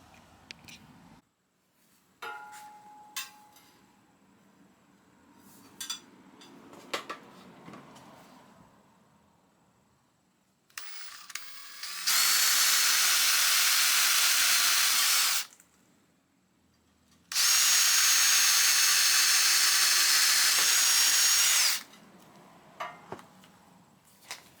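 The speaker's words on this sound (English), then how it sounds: "I have to drill a hole on the bottom of the top and bottom rail" A hole is drilled into the bottom of an aluminum gate rail on a composite rail system: two sustained, loud, hissing bursts of about four seconds each, separated by a short pause, with quieter handling clatter before them.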